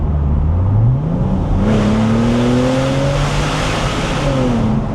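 A Porsche 997 Turbo with Tiptronic gearbox close by revs up in a quick blip and settles, its pitch rising and falling over a loud exhaust rumble.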